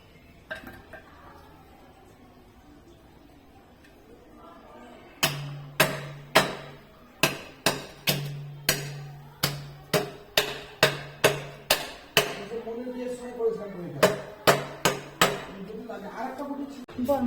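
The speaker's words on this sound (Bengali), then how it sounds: "মাছগুলো কেটে নাও। কাটো বড় মাছ।" A large pond fish is hacked apart with a bonti blade in a village kitchen, giving about sixteen sharp, close chopping strikes in a steady, slightly uneven rhythm after a quiet start.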